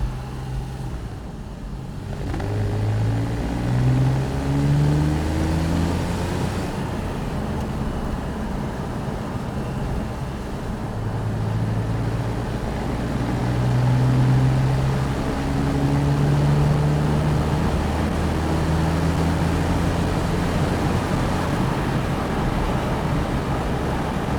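Porsche 911 Targa 4S (997.2) accelerating hard, its engine note rising through sweeping gear-change pitch climbs, loud and continuous with road and wind roar beneath.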